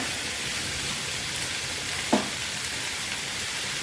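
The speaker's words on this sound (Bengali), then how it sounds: "একই সঙ্গে আলু কুচিটা দিচ্ছি, একসঙ্গে একটু ভেজে নেব।" Chopped potatoes fry in a pan with a soft, even sizzle, and a single brief clunk sounds partway through.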